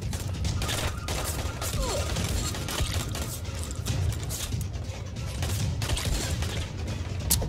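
Rapid gunfire in the video game Dying Light, heard as continuous loud shots and clattering under a constant dense game din across the whole stretch.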